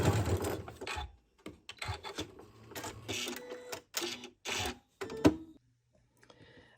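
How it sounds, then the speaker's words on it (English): A sewing machine top stitching the edge of a fabric loop for a hexie Christmas stocking, running in short stop-start bursts of whirring with gaps between, close and fairly clear. "I'm top stitching about 1/8 of an inch away from the folded edge"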